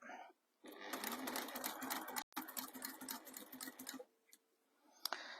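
A sewing machine stitches bias binding, running at a fast, steady buzz for about three seconds with a brief break midway, then stops, leaving quieter sounds and a few clicks.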